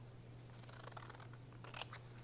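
Scissors trim a thick paper cutout of a Giordano's deep dish pizza for a junk journal page, a quiet run of soft snipping and rustling close by, with a brief flurry of sharper cuts near the end.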